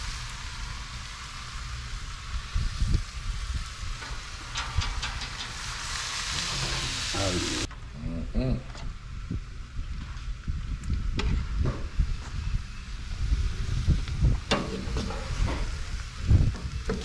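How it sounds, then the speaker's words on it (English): Deer backstrap fajita meat fries with peppers and onions in a pan outdoors, a continuous loud sizzle that surges as the meat goes in, with scraping stirs and bumpy handling noises. "now we're about to add our backstrap fajita to the peppers and onions"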